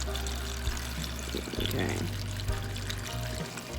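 Water pours from close by into a hydroponic seed tray filled with hydroton pebbles, a steady gushing stream with a brief pause, while a person briefly speaks.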